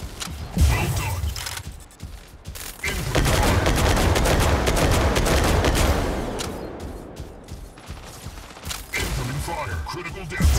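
Mech gunfire from the video game Mech Arena in a free-for-all match, sustained loud bursts of rapid shots and impacts across the clip with brief pauses, game voice callouts briefly heard over the barrage.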